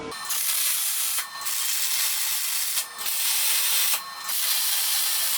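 Metal pieces of an outdoor fireplace grilling rack are tack welded, four separate bursts of crackling, hissing arc noise, each lasting about a second, divided by short quiet gaps.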